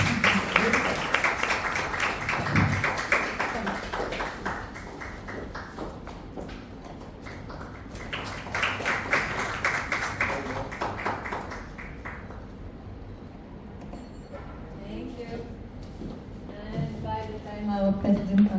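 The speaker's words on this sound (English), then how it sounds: "a round of applause, please" An audience claps at a summer interns' farewell gathering at Khar Gymkhana, with two dense bursts of applause rising and fading, then a voice speaking over quieter room sound.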